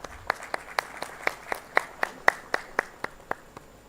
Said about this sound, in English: A big round of applause for that.